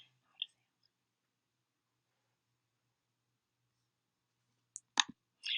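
A few faint, sparse clicks from selecting icons on a computer: one isolated click early, then a quick cluster of small taps near the end, with silence between them.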